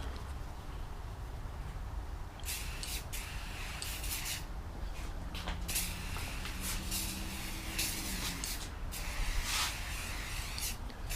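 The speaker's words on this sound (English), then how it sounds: "Now I'm just going to go ahead and spray this stuff on" Repeated bursts of spraying hiss from an aerosol can of fabric protectant sprayed onto a Honda S2000 convertible top, close by, with short pauses between passes and light rubbing noises.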